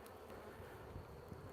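Gentle honey bees hum steadily around Hive 1 on an afternoon check, a soft, continuous buzz with faint wind noise and no voices.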